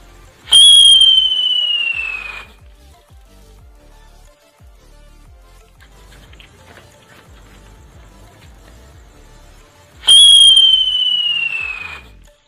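Whistling spinning-wheel firecracker (chakri) by Standard sets off two loud, shrill descending whistles several seconds apart, each lasting about two seconds with crackling at its start, and quiet background between them.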